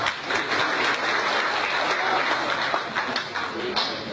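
A comedy crowd at the PKS Legislator Summit 2016 breaks into sustained applause, a dense, loud wash of clapping with a few scattered chuckles mixed in.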